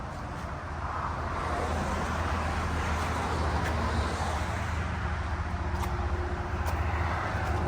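Steady low road rumble and wind noise fill the cabin while riding in a 2023 Can-Am Defender side-by-side, a continuous even drone with no talk.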